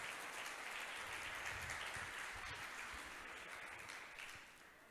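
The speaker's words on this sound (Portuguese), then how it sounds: "Aplauda o Senhor por isso" Faint, even applause from a congregation at a church sermon, a continuous soft patter of many hands that fades slightly toward the end.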